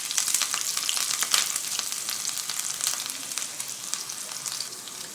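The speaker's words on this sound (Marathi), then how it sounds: "2 चमचे तेल टाकले. मोहरी घालते. ह्या बारीक केलेल्या हिरव्या मिरच्या घालते." Mustard seeds and finely chopped green chillies sizzle and crackle in two spoons of hot oil for a tempering, a steady close frying hiss with scattered pops.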